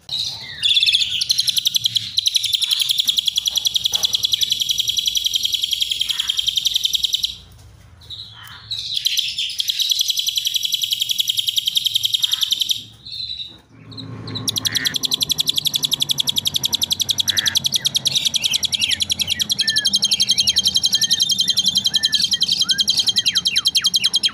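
A songbird sings continuously, opening with a cililin pattern and then running straight into a lahbet pattern with no pause, loud and close with dense high chirps and trills throughout.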